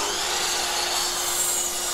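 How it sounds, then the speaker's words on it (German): Power saw cutting a 45-degree roof bevel in wood for a songbird birdhouse, a steady, dense whining cut with a constant motor tone, close and loud throughout with no voices. "die Dachschräge mit 45 Grad absägen können"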